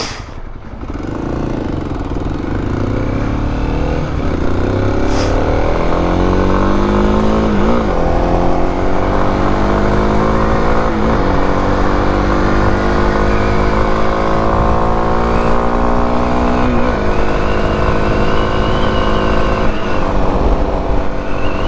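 A motorcycle cruising at around 60 mph, a loud sustained engine drone with wind rush, its pitch climbing steadily through gear changes over the whole stretch.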